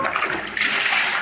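A toilet flushing, a loud close rush of swirling water that fills the whole short moment without a break.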